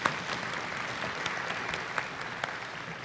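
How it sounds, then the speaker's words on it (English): A middle school honors concert crowd applauds the parents, dense continuous clapping filling the room at an even level with a few sharper claps standing out. "give a round of applause for parents"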